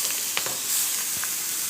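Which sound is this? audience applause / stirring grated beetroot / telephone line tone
stirring grated beetroot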